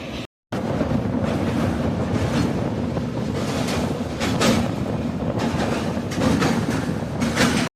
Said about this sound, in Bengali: জলের প্রবাহর সাথে ট্রেনের যে আওয়াজ